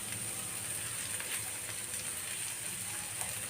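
Curry leaves crackle and sizzle in hot oil in a pan while fish masala gravy is being cooked, a dense, steady hiss that runs throughout, close and even, with no voices.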